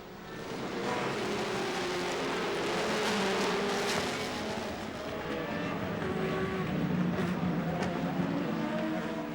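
Le Mans Series race cars from the 2005 season, a Pescarolo leading from pole, roar past on track with a steady, loud, dense engine drone that swells and eases slightly as cars go by, without any talk.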